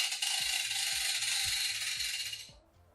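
The automatic ratchet of a Q'Straint wheelchair securement strap clicks about seven times in an even rhythm under a steady hiss of the strap retracting, close and clear, then falls quiet.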